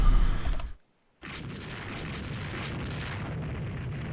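Heavy naval shell impacts and explosions on ships in a Rule the Waves 2 sea battle: a loud blast, a brief silence, then a sustained dense rumble of hits and bursts.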